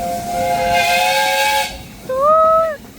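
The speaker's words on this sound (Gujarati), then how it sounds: "હોર્ન માર્યું" A small passenger train at Ruislip Lido sounds its horn twice: a long, steady, loud tone, then a brief pause and a shorter blast that bends upward, both close and clear above faint background noise.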